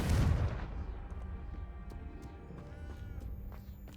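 A Confringo fire spell blast in the video game Hogwarts Legacy: a loud booming burst at the start that trails off into a rumbling decay, followed by faint game effects and scattered clicks.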